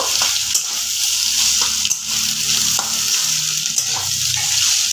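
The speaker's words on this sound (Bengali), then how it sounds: "আমি এর মধ্যে একটু গরম মশলা গুঁড়ো ছড়িয়ে দিলাম এবার ভালো করে মিশিয়ে নেব" A spoon stirs an egg filling seasoned with garam masala in a sizzling pan. Steady frying hiss runs throughout, with periodic scraping stirs close by.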